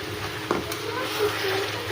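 Ginger garlic paste hits a hot pan already holding spices, giving a steady frying sizzle with a light clink of the utensil, while someone speaks over it.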